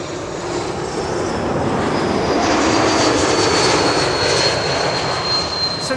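An airliner lands on Schiphol's Kaagbaan runway 06, a loud, steady roar of jet engines close overhead that builds and holds for several seconds with no talk.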